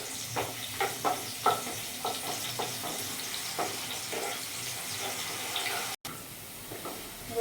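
Chopped garlic fries in a pan with a steady low sizzle, punctuated by occasional stirring scrapes and clinks, close and fairly quiet, with a brief dropout near the end.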